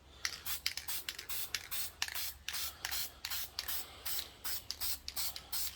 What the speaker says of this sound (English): Spray the back of the gasket, real good shake